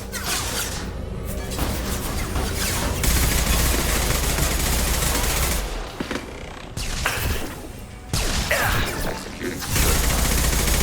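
Loud, near-continuous turret fire in Mass Effect 2, a rapid machine-gun fusillade that hammers on for several seconds, drops off briefly twice and resumes, with occasional whooshes and thuds mixed in.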